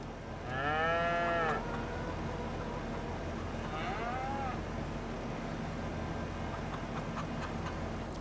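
Cattle in the Farming Simulator 25 video game give two drawn-out moos, the first louder and nearer, the second softer a few seconds later, over a steady low farm ambience.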